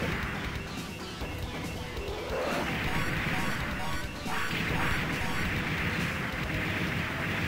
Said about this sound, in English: Okay, we've destroyed Thunderbird 2